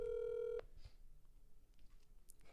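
Telephone dialing tones for a call to a brother: a loud, steady tone holds for about half a second and then cuts off, leaving faint background hiss and a few soft clicks.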